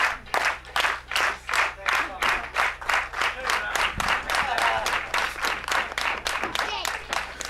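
A wrestling crowd at a PW Clash show bursts into sustained, loud applause, dense rhythmic clapping rising and falling steadily throughout with a faint low hum beneath.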